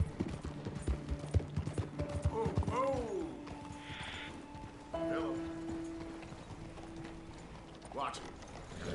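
Horse hooves clip-clop in Red Dead Redemption 2, a steady near rhythm of hoofbeats mixed with creaking tack and brief whinny-like sounds, while people talk over it.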